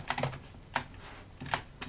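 A few soft, quick keystroke bursts on a computer keyboard as login credentials are entered, clicking quietly in a hushed room.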